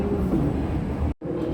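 A steady low rumble of the Majapahit economy-class train at a station platform, idling or rolling nearby, continuous and fairly loud, with a brief dropout near the end.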